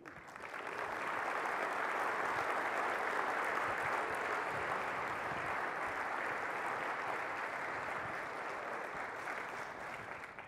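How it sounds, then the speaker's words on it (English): An audience at a conference's opening general session gives a sustained round of applause: dense, even clapping that swells in quickly, holds steady for about ten seconds, then fades slightly, with no talking. "We can give them a round of applause."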